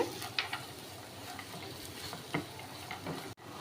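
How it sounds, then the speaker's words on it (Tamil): Coconut pieces, cashews and almonds fry in ghee with a soft, low sizzle, marked by a few faint taps of a stirring spoon; the sound is quiet and close, with no speech. "தேங்காய் துண்டு கேஷ்நட் பாதாம்லாம் இப்படி நெய்யில் ஃப்ரை பண்ணி விட்டுக்கோங்க"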